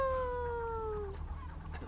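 A dog or fox call in the game Before Your Eyes: a single drawn-out, falling whine lasting about a second, fairly close and alone, fading into quiet room noise.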